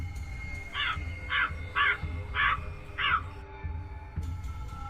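Crows caw five times in a steady rhythm, harsh calls at moderate distance over a low rumbling background hum, as the birds circle around a house.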